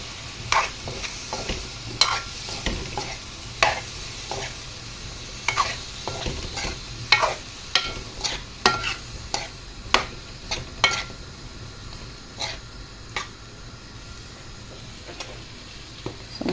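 Broccoli and cauliflower stir-fry with curry prawns in a pan, a continuous sizzle broken by repeated sharp scrapes and clacks of a utensil stirring at an uneven rhythm, close and moderately loud, no talk.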